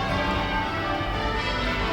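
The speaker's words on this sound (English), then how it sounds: "And those are bells." The church bells of St Martin-in-the-Fields in London ring in a dense, continuous wash of overlapping tones, steady and fairly loud with no voices.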